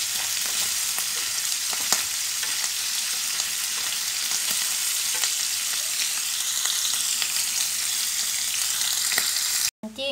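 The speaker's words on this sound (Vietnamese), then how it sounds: "mình bỏ lên bếp mình chiên cho nó ra bớt mỡ" Thin slices of pork belly fry in a pan, rendering out their fat with a loud, steady sizzle and crackle that lasts throughout, with no talking.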